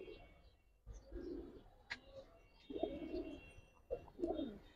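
Giribaz pigeons coo in low, throaty bursts, several phrases repeating over a few seconds at close range, with no talking.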